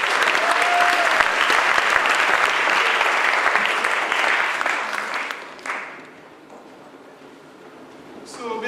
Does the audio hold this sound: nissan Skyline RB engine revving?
no